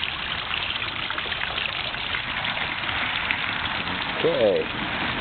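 Water trickles steadily in a specially built backyard koi pond, a soft continuous splashing wash that holds level throughout, with a brief chirp near the end.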